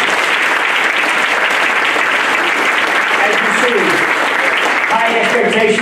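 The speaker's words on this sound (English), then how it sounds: "So let's give yourself a round of applause" Sustained applause from an audience at a state-of-the-schools address in Florida, dense steady clapping filling the whole stretch with a faint murmur of voices mixing in toward the end.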